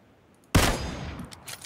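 A single sharp gunshot in the video game PUBG bursts out after a moment of quiet, followed by a lingering echo and a few fainter crackles.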